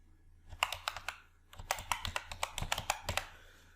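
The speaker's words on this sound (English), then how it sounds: "Now type Washington in Find box." Fingers type a short word on a computer keyboard while working in an Excel spreadsheet: two quick bursts of crisp, close keystrokes separated by a brief pause, with no voice.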